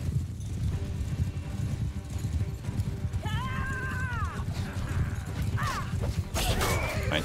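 About twenty armored cavalry horses with lancers charge in Mount & Blade II: Bannerlord, a dense, loud drumming of hooves throughout, broken by several sharp neighs and whinnies near the end.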